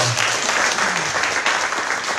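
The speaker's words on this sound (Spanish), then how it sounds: "Denles un aplauso a Omar y Omar y Rebeca" A church congregation applauds missionaries during a service, a short steady burst of many people clapping together, fairly loud, with a faint voice underneath.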